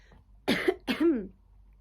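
Two quick, hoarse coughs close to the microphone, one right after the other, followed by quiet.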